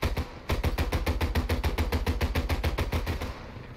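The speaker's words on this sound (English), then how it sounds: "Gotta say these guns are loud." Rapid, evenly spaced bursts of ship-mounted guns firing in the naval combat of War Thunder, a loud relentless rattle of about twenty shots that stops briefly near the start and trails off at the end.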